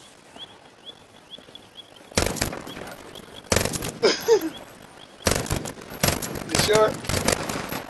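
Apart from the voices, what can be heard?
gunfire shooting at a bison in a video game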